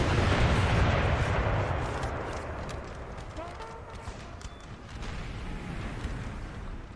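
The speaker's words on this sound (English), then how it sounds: "Oh, look at that canister fire." Artillery canister fire in a Napoleon: Total War battle, American Civil War mod: a heavy boom opens, then a rumbling battle din with scattered smaller reports fades and swells again while someone talks over it.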